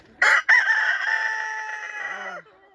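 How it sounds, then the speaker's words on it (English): A rooster crows nearby, loud and drawn out, a strident cock-a-doodle-doo that holds for about two seconds before fading into a softer cluck. "Rooster, you're being so loud."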